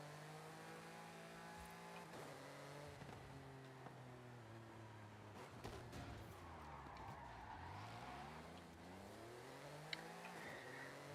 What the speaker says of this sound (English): God, this engine sounds great.